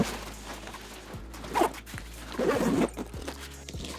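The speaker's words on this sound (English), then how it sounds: "Zip it up here in the corner" A travel bag's zipper is pulled shut in two short, close, raspy strokes, the second longer, amid quiet handling noise and no talking.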